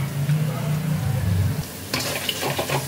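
Cumin and coriander powder masala for chicken do pyaza is stirred and fried in a pan, a low rumbling hum giving way to brisk scraping and sizzling bursts in the second half, close and fairly loud.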